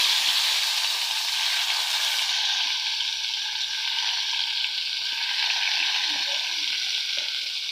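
Sliced onions sizzle in hot oil in a pan with whole spices for a cauliflower gravy, a steady loud crackling fry up close, with a few stirring scrapes and no talking.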